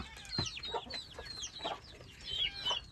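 Chickens cluck in short, scattered bursts at moderate distance, with no talking.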